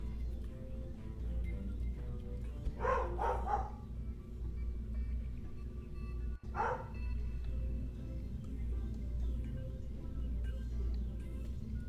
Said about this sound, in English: Sorry about dog barking if you can hear that.